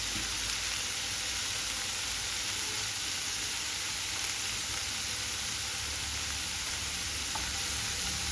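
Two tomatoes cook in a pan for tomato rice, giving off a constant, even sizzle with a fine crackling hiss close by, steady throughout with no stirring accents or voices.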